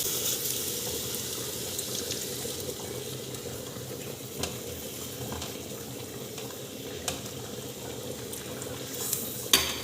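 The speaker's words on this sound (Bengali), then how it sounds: "ফুলক্রিম দুধ জাল দিয়ে রেখে দিয়েছিলাম উষ্ম উষ্ম গরম আছে অল্প অল্প করে দেবো আর মিশাবো" Warm full-cream milk is poured bit by bit into semolina and stirred in while making a sweet dudh puli pitha: a soft, steady liquid swish with faint scraping and a few light clicks, no talking.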